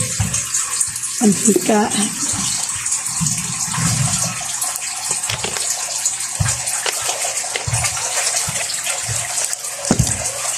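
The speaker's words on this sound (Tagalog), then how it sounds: "Add water." Water runs steadily from a tap into a pot while cooking a sautéed mix with oil, with someone speaking over the continuous splashing flow.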